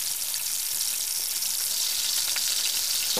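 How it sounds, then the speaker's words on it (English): Paneer and apricot kebabs deep frying in hot oil, giving a steady, close bubbling sizzle that holds level and unbroken throughout, with no voices. "when you're deep frying something, make sure that it reaches boiling point"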